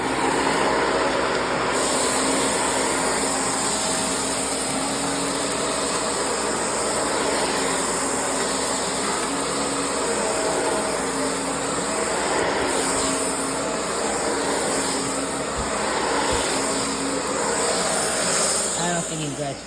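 A Shark vacuum cleaner with a brush roll runs steadily on carpet, a continuous loud motor whine and airflow roar lasting throughout with little change.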